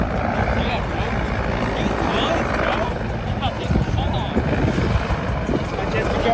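Rescue helicopter flying near Cowles Mountain, its steady rotor thrum and engine drone loud and continuous outdoors, with people talking over it.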